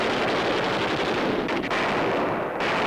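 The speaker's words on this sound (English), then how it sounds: "Machine gun nests wiped out by hand grenades." Sustained WWII combat gunfire from machine gun nests under attack by hand grenades, a dense continuous roar of shots and blasts with a brief sharper burst partway through, loud and unbroken throughout.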